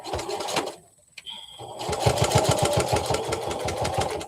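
After a brief pause, a sewing machine starts up and runs a long basting stitch across body pieces of a Chameleon garment, with a rapid, even needle pulse close by.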